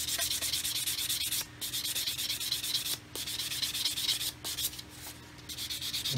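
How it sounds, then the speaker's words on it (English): Sanding Mr Surfacer primer on a scrap scale-model wing, a steady close-up scratchy rubbing in repeated strokes with brief pauses between them, quiet and without talk. "And then when you sand it, you can also see it's pretty durable for sanding."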